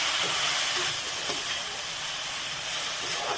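Onions sautéing on low gas in a pan, a steady close hiss of frying with faint scraping from the stirring and no talking.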